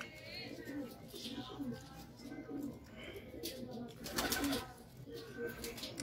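Pigeons coo softly and repeatedly inside a home pigeon loft, low rolling calls close by with a few chirps and faint background activity.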